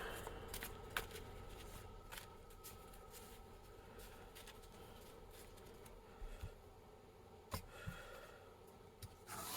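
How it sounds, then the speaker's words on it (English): Gamble cards for a 1970s baseball board game being shuffled and cut, a soft papery riffle and rustle with a few sharp snaps, quiet and close, with no talking. "So we'll give these a quick shuffle and a cut,"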